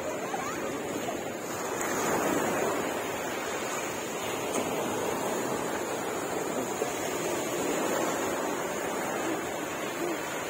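Sea waves washing onto a beach, a continuous broad roar of surf with gentle swells, steady and moderately distant, mixed with some wind noise.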